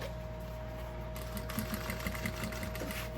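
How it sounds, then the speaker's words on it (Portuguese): A sewing machine runs steadily, stitching a reinforcement seam on a backpack pocket, with a continuous mechanical hum and faint rhythmic clatter throughout, and no talking. "Vou passar uma costurinha de reforço aqui."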